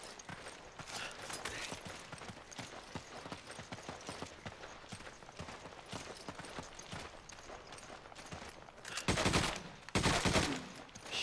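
Gunfire and combat noise in the video game Resident Evil 5, a quiet run of sharp rapid pops and clatter with two louder bursts near the end, set against a faint game background.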